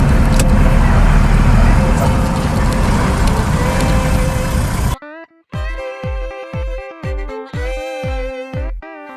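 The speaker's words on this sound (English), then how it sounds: "the small convoy of 5 capable vehicles gliding on the tarmac in pine-covered forest finally sailed off" Five capable vehicles drive in convoy along a tarmac road through pine forest in the Spiti Valley, giving a loud, steady broadband road roar for about five seconds before it cuts abruptly to music.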